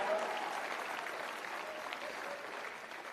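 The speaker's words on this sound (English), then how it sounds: "I do believe that it's fitting to give her a round of applause for her help in this process" A CPAC 2017 conference crowd applauds during a speech, the clapping fairly distant and steady, easing off slightly as it goes on.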